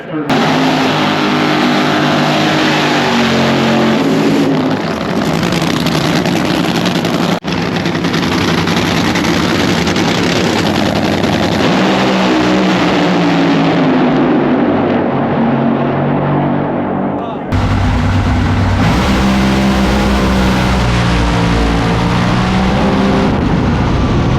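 Race car engines roar loudly and continuously at a Las Vegas qualifying event, holding sustained revving tones that shift in pitch, with a sharp burst of louder engine noise near the end.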